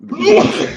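A single loud, close sneeze bursts out during a late-night live stream, sharp and brief.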